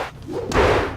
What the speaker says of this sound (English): Kick to the face.